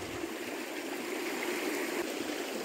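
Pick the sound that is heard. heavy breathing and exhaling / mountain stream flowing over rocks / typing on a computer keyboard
mountain stream flowing over rocks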